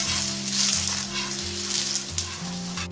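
Radish-stuffed paratha sizzles steadily in ghee on a hot pan just after being flipped, a close, continuous frying hiss with a brief clatter near the end.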